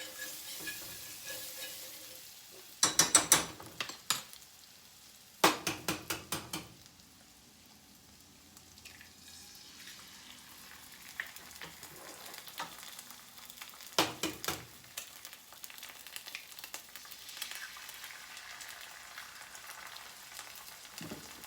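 Butter sizzling in a frying pan before eggs go in, a faint steady hiss broken by a few bursts of clattering stirring or scraping, close but quiet, no voices.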